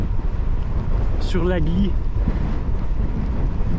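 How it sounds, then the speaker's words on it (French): Strong wind roars steadily across the microphone during a bike ride along the Agly river with the Canigou in view, a loud constant buffeting throughout while someone speaks briefly over it. "Ah, vous l'entendez le vent?"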